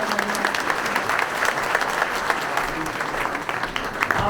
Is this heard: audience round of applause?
yes